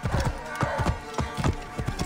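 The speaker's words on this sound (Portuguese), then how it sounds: "Então a gente vai continuar a viagem por cavalo" A horse gallops in Assassin's Creed Origins, rapid rhythmic clip-clop hoofbeats in repeated triplet bursts, close and steady throughout.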